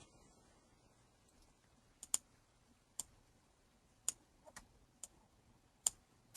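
Sparse computer keyboard key clicks, about eight sharp light taps at irregular intervals, close and fairly quiet against a near-silent background.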